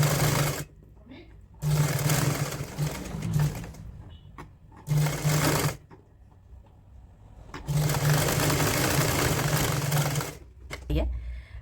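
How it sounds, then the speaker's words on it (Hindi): Sewing machine stitching the neckline facing of a woollen kurti, running in three loud bursts of rapid stitching separated by quiet pauses with faint handling noises. "इसको हमने इस तरह फोल्ड करना है और ऊपर एक सिलाई लगानी है"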